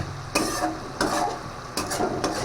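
Khichuri being stirred and sautéed in a pan, three scraping sweeps of a spoon over a steady sizzle, close and loud with no talking.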